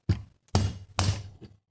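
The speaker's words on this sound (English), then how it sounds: "I'm just going to grab my rubber hammer" A rubber hammer knocks an old steering stem bearing race from a 1993 GSXR through a vise: three solid, closely spaced thuds and a lighter fourth tap, alone in a quiet workshop.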